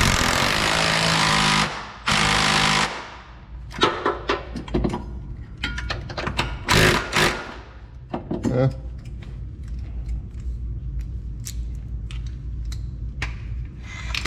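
A right-angle power tool drives bolts while running boards go onto a 2021 Nissan Titan Pro4X; loud bursts of whirring and ratcheting come in several short runs with knocks and clatter between them, close up.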